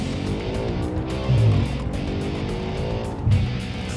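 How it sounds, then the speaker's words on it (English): An Audi RS5 accelerating hard on a test drive, its engine droning steadily with two short louder surges, heard from inside the car. "That was the noise of the car."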